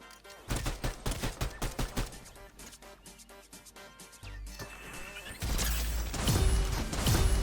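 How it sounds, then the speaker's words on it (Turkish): Fortnite shotgun blasts fire in a quick rhythmic series of sharp loud shots, followed by denser game noise, with a voice talking at moments. "Bu pompalı iyiymiş ha."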